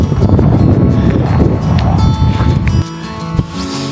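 Heavy wind buffets the microphone on a frosty morning run in Alaska, loud, rumbling low-frequency gusts that ease slightly toward the end.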